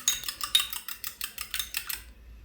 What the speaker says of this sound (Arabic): هنضرب البيضتين كده كويس